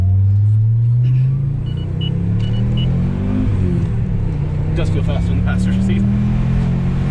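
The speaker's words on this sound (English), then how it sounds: "Exhaust sounds really good too." Audi S6 Avant C4 with a turbocharged 20-valve five-cylinder engine and a replacement exhaust, heard from inside while driving: a steady, droning engine note that climbs and then settles, with people talking over it throughout.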